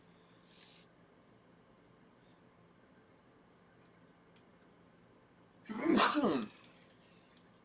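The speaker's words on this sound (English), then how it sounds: "Gotta sneeze, hold on." A single sharp human sneeze bursts out loud and close near the end, preceded by a faint brief breath or sniff, with quiet room tone between.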